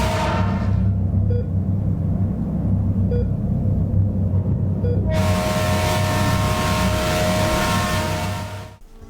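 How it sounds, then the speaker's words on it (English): A train horn blares loud and sustained over a deep rolling rumble, cutting in midway after a quieter stretch of steady rail noise and holding almost to the end. "That train horn gets really loud."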